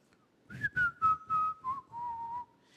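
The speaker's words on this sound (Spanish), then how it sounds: "Hay una canción que se llama Solo en ti, Señor, pero la silban." A person whistles the hymn Solo en ti, Señor, a clear close melody of short rising and falling notes ending in one longer held tone, with no talking.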